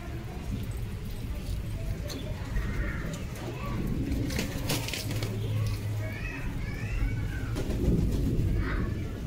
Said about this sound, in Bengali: এই যে সবুজ কবুতরটা নামলো এখনই।